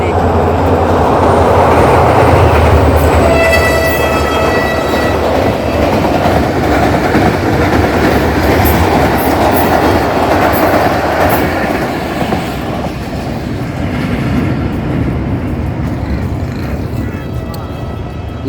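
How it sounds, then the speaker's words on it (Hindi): A train passes close by in a loud, continuous roar of rolling wagons and clattering wheels, with a horn-like tone early on, gradually easing toward the end. "देखें जी यहाँ ट्रेन गुजरेगी जी"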